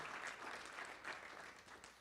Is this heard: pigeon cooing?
no